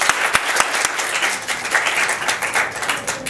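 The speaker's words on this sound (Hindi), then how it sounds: "अपने लिए बहुत ज़ोर से तालियां बजाइएगा।" Audience applause at a school of nursing and midwifery's International Women's Day celebration, dense steady clapping from a crowd with a few sharper nearby claps, lasting throughout without talk.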